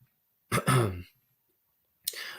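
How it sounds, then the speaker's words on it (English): A harsh cough bursts out loud and close, followed by a short pause and another rough cough starting up. "if I don't answer questions fast enough, my cough comes back"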